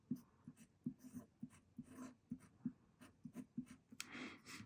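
A medium-nib fountain pen writing on paper: close, quiet scratchy strokes in a quick, uneven rhythm with short pauses between letters, heard alone.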